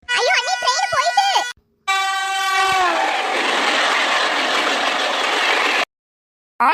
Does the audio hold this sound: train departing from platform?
yes